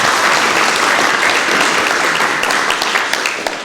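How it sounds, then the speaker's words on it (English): A conference audience gives a quick, dense burst of applause for the sponsors, steady and close, tapering slightly in the last second. "a quick round of applause for our sponsors"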